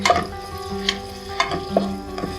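Onions tossed and frying in a pan, a steady sizzle broken by a few sharp clinks and scrapes of stirring, close and fairly loud, with no voices.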